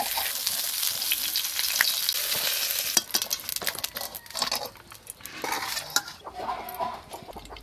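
Slices of brinjal frying in a hot pan, with steady loud sizzling, then clinks and scrapes of a utensil as the pieces are lifted out and the sizzle eases.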